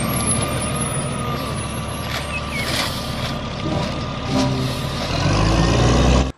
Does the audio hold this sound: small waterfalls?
no